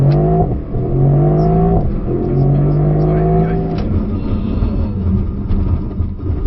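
A Mercedes SL63 launches hard from a standing start, engine note climbing through several gear pulls with brief dips between shifts, loud and close from inside the car, no talking.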